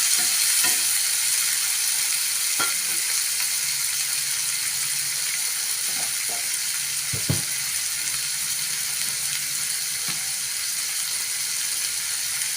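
Onion and tomato fry in a pan for bottle gourd masala, a constant bright sizzle with occasional scrapes and clicks of stirring, close and steady throughout.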